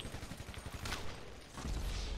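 Gunfire in a parkour video game: a rapid run of game gunshots and bursts, loud and steady throughout, with a brief sharper crack near the middle and heavier booms toward the end.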